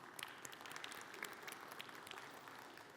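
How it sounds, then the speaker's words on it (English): A quick round of applause from an audience, quiet and somewhat distant, with steady scattered clapping and a few sharper claps over a few seconds. "We can actually give Rafa a quick round of applause."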